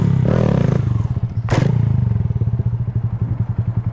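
A motorcycle's clutch is popped for a wheelie, with an engine rev, a sharp clattering thump partway through, then a rapid pulsing idle putter, close and loud.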